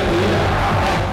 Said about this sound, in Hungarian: Tapsból és sikításból a sátorban sem volt hiány